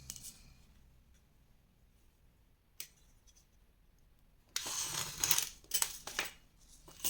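Paper being cut along a ruled line for a Harry Potter pop-up scrapbook album, with a brief snip early on, then a louder burst of crisp, close cutting and rustling near the end.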